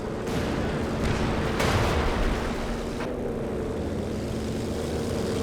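Planes fly over a Company of Heroes 2 battlefield with a loud, steady drone of aircraft engines, broken by sharp bursts of battle noise and no talking.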